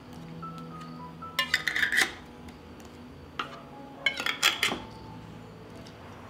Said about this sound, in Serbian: I na kraju tegle zatvaram sa čistim i novim poklopcima.